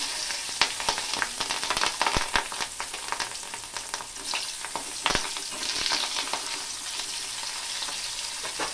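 Chilies hit hot oil with bay leaf while tempering for mango dal, producing a loud, close, crackling sizzle with sharp spattering pops and occasional utensil knocks, no voices.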